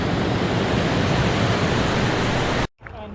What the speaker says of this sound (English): There's another weir we've had to portage round.